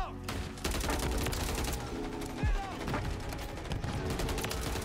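Rapid bursts of gunfire from Modern Warfare 3 rattle on continuously, with a heavier blast midway, while players talk over the action.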